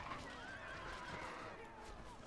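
A horse neighs amid dense battle noise in the fantasy strategy game Battle for Middle-earth II, its whinny rising briefly over a steady, loud wash of combat sound.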